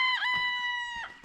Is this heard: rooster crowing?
yes